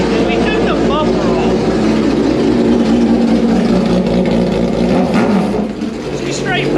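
A fully built 2022 Hayabusa 1475cc motorcycle engine runs hard on a dyno, a loud sustained roar with rising and falling revs that briefly dips near the end.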